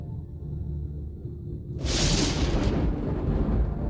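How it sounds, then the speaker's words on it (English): A cartoon thunderstorm lets loose a sudden loud crack of thunder that bursts in over a low rumble and rolls on as a heavy, sustained roar. "That last crack of thunder shook Theodore's stack."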